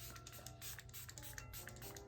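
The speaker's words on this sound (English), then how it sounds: "Now I'm going to spray my face" A facial mist sprays onto a face in a soft, steady hiss lasting about two seconds, with faint rustling underneath.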